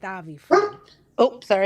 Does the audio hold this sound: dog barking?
yes